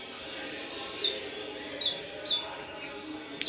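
A trained, well-managed canary sings in short, bright chirping phrases about every half second, close and fairly clear over a faint steady background hiss.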